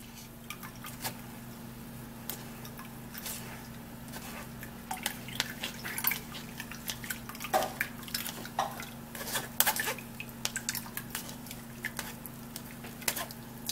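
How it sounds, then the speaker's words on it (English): Blended grape drink being poured through a sieve, giving soft continuous drips and trickles of liquid with faint clinks of a bowl, steady and close with a low background hum. "So after that, I'm going to be sieving it out."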